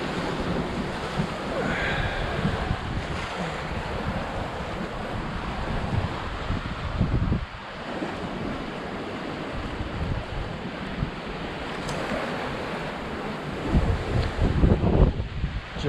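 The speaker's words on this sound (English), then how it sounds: "The wave coming up the back now." Ocean waves surge and wash steadily behind a sailboat running under jib and Code Zero in the Atlantic, a broad continuous roar mixed with gusty wind buffeting the microphone, swelling louder near the end.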